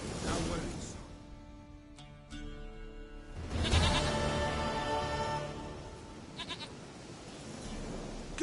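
A goat bleats in The Witcher 3 game, several wavering cries over a game scene with some speech and ambience, moderately near.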